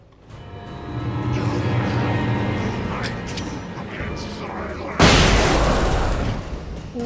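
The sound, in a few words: flashbang grenade explosion in Alan Wake video game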